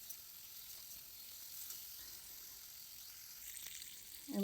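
Potatoes and tomatoes sizzle and fry in a hot wok while being stirred, a steady close frying hiss running throughout with faint scraping toward the end.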